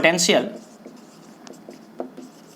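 Chalk or marker writing on a board during a physics lecture on electric potential, with short scratchy strokes after a brief burst of a voice.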